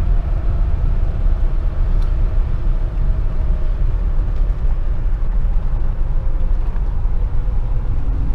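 A 1973 Lincoln Continental Mark IV driving, with a steady low engine and road rumble heard from inside the cabin, continuous and fairly loud, with no voices.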